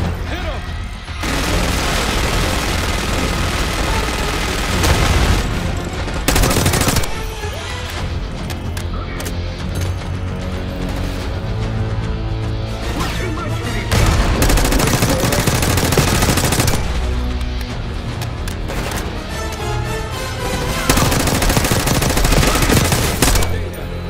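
Minigun fire in Call of Duty: Black Ops 6: a loud, sustained roar of rapid shots with booming blasts and crashes, breaking off briefly a few times before resuming, with voices speaking now and then beneath it.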